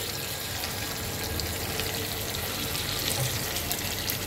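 Pieces of chitol fish fry in hot oil, a dense, even crackling hiss that carries on close and unbroken throughout with no voices.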